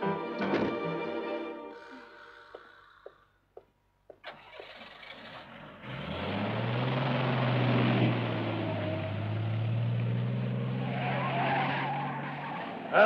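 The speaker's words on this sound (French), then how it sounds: "Arrêtez cette voiture." A car starts up and drives off with a skid, tyres squealing over a loud, sustained engine roar after a few brief clunks and knocks, in a period detective drama.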